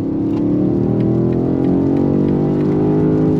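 A 653 hp BMW XM SUV pulls through an overtake, its engine droning steadily with a rising harmonic tone as it accelerates, heard loud from inside the cabin.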